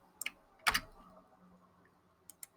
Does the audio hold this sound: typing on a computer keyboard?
yes